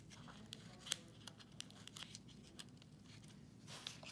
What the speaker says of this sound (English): We're gonna do the same thing we did on the other side by snipping this tape in a couple pieces.